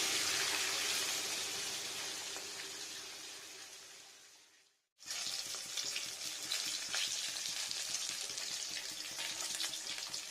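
Rui fish fries in a pan on a gas stove with a dense, close crackling sizzle that fades, breaks off briefly midway, then returns just as steady and bright.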